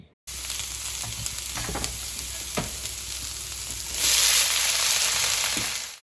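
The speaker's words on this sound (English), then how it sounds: "Just saute some garlic, add in all the vegetables, and fry everything up quickly." Garlic and vegetables stir-fry quickly in a pan, a constant close sizzle with light stirring taps that swells into a louder, hissing burst near the end before cutting off.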